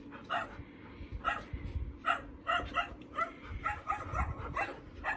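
Puppies play close by, giving a quick run of yips, small barks and whimpers in an uneven, lively rhythm, with faint talk now and then.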